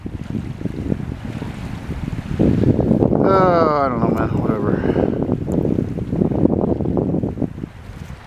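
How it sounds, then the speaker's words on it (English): A boat motor runs on the water near Montreal's Lachine borough, a steady rumbling drone heavily mixed with wind buffeting the microphone, while someone talks briefly over it. "it's actually got a boat motor on it."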